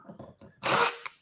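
After a few light knocks, a power drill driving a screw into drywall gives one short, close whir that stops abruptly.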